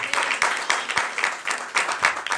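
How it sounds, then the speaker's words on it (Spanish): A congregation at a church service claps loudly, with clear rhythmic surges of many hands beating together in steady pulses. "Aplaudir fuerte."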